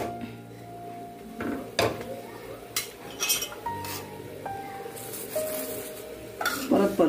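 Puran poli flatbread is flipped on a hot griddle and brushed with ghee, giving a soft sizzle broken by utensil clinks and scrapes against the pan, close and intermittent with no talk.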